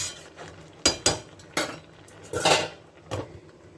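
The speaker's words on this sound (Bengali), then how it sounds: "এখন এটাকে আমি আবার একটু ঢেকে দেব" A lid is set on a cooking pot holding a large potato, producing a handful of close metallic clanks and clinks in quick succession over a quiet kitchen background.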